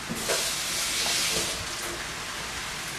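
Five eggs frying in a pan in a kitchen give off a steady, close, fairly loud hissing sizzle that holds for the whole stretch, swelling slightly early on, with no voices over it.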